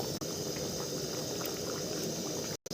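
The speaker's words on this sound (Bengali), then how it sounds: "ঝোলটা ফুটছে, আমি মাছগুলো দিয়ে দিলাম ঝোলের মধ্যে" A pot of fish curry gravy with fish pieces added bubbles and boils steadily at close range, a dense continuous simmering gurgle with no voices.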